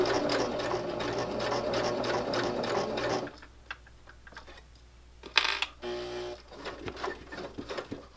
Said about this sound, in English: we're going to stitch all the way around